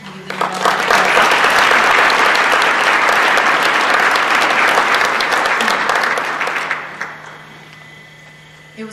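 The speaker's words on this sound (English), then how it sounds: "We'll give them a round of applause." Sustained applause from an audience at a distinguished service award ceremony, dense and loud clapping for about seven seconds before tapering off and fading to near quiet.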